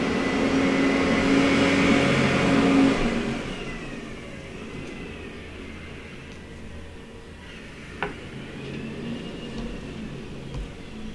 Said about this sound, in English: McNeilius made that truck?